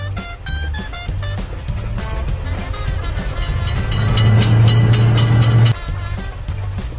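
A cartoon train rolls past with a steady rising rumble and a long sustained horn-like tone near the end, set against bright music, before cutting off abruptly.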